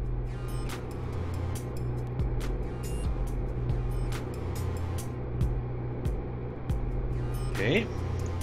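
A rover driving across terrain in Kerbal Space Program, a steady low engine rumble with repeated sharp clicks and bumps, while people talk over it.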